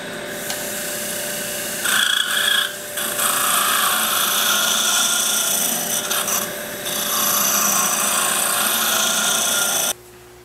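A wood lathe turns a long-stem wooden goblet, giving a steady scraping, rasping hiss from the cutting tool on the spinning wood. It runs continuously with a few brief louder bursts and cuts off near the end.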